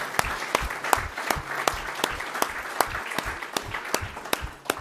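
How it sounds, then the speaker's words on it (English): Audience applause at an annual public lecture, a dense steady patter of many hands clapping with a few louder sharp claps standing out, sustained evenly throughout. "let's give him a big round of applause"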